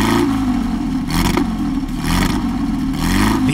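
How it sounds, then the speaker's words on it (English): Porsche 550 Spider sports car with an all-aluminum engine and 4-speed manual transaxle, revving hard in loud repeated surges with a rough mechanical clatter, heard alone at close range. "The sound of the Spider is unmistakable."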